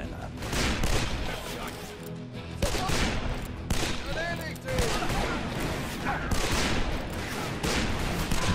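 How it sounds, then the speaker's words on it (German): Wild West gunfight in the video game Call of Juarez: Bound in Blood, with dense, loud bursts of rapid gunfire repeating throughout and a voice speaking now and then over the shooting. "So, eine gute alte Schießerei im Wildweststil."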